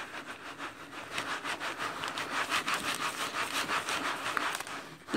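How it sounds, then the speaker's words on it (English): Hands rubbing Resolene finish into a leather notebook cover, producing soft, steady back-and-forth friction strokes in a quiet room, repeated rhythmically and close up with no talking. "I just get a bunch on my hands and rub it into the book."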